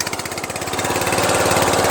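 Murray Select 14.5HP 42-inch widebody lawn tractor engine firing up after a starter motor and stator repair, a loud close rhythmic sputter settling into a steady running chug.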